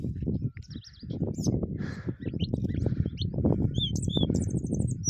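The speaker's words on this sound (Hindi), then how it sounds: "बहुत ही बढ़िया पक्षी चहचहा रहे हैं यहाँ पे" Birds chirp and tweet at Sajjangarh Fort, a natural hilltop spot near Satara, in short bright calls scattered over someone talking throughout.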